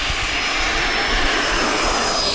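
Banana Hobby HSD Super Viper RC jet taking off at full throttle, a loud, steady, close jet-like roar with a thin high whine running through it for the whole stretch.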